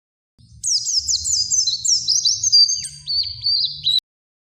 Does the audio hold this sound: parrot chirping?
yes